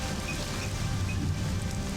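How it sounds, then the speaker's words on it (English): Steady rain from the city-building game Caesar IV, a dense continuous hiss of droplets on surfaces, even and unbroken throughout without any talk. "for some reason, the rain sound effects massively loud"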